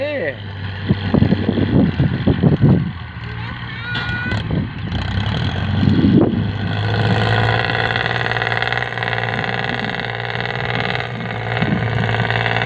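A heavy tractor engine drones steadily with a low rumble during rice field plowing, while someone talks over it early on; the engine continues alone afterward.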